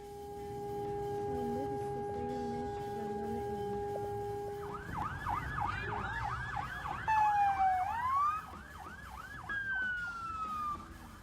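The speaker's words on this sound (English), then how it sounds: "Gunshots and sirens could be heard." Emergency sirens wail in the distance, first a steady tone, then overlapping yelping and rising-falling sirens layered together, with no talking.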